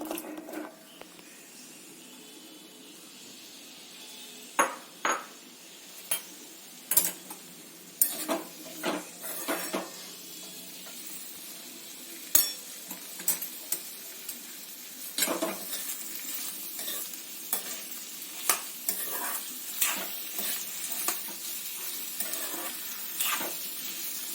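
Ivy gourd pieces fry in hot oil in a pan, a soft continuous sizzle broken by a series of sharp clinks and scrapes from a utensil stirring against the metal, close and fairly frequent, with no talk.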